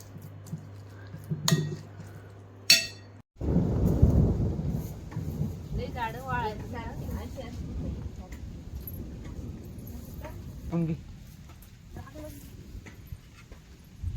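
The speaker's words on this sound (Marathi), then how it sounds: "जस्ट पाऊस आला" Rain comes on suddenly after a sharp crack of thunder, settling into a steady patter, with clinking household sounds and a person talking over it.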